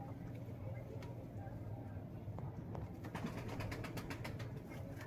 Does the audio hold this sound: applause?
no